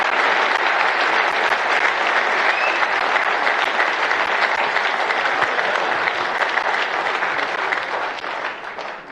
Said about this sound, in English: Ladies and gents, another round of applause.